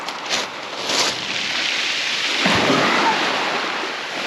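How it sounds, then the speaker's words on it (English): Light rain begins falling outdoors on a cliff-backed beach, a soft steady hiss of drops with a few louder gusts of wind against the microphone. "Just starting a few more spots of rain now."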